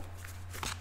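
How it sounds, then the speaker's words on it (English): Brief, soft rustling and riffling of cards being shuffled, a few quick papery flicks close by over a low steady hum. "let's start to shuffle and see what we can find for you"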